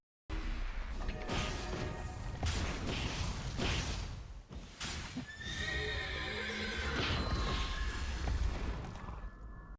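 A horse in the video game Mabinogi neighs loudly and its hooves clip-clop, mixed with game crashes and whooshes in a busy, continuous burst of effects.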